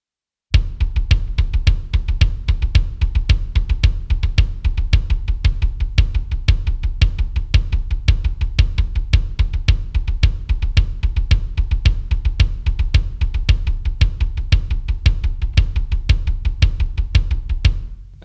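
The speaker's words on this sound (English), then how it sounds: "I'll just do it on the double pedal." A double bass drum pedal plays a steady, fast stream of kick strokes, moving from a samba pattern into triplets and back, loud and close for about seventeen seconds with no voice.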